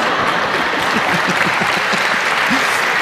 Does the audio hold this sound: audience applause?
yes